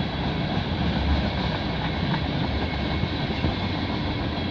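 A CP/CN freight train hauling tank cars and an auto rack rolls past in Milton, Ontario, a steady loud rumble and rattle of wagons that runs unbroken, close by.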